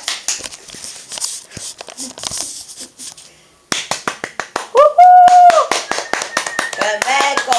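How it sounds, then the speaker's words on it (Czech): An audience at a magic show claps after a trick with a mix of sharp hand claps and finger snaps, at first sparse, then a denser burst. A voice and a short whistle-like tone cut through the clapping. "Zatleskejte."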